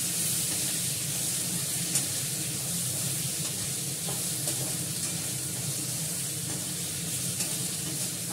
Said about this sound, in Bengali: আলুটা ভাজা করে নিই।